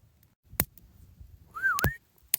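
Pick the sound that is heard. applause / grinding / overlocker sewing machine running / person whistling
person whistling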